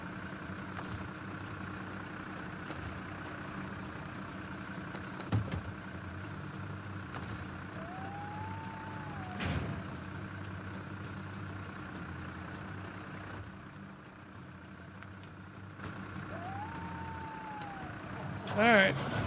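Kenworth truck engine idling in a driving video game, a low steady rumble throughout with faint whistling tones and a soft beeping near the end, fairly quiet under the game's ambience.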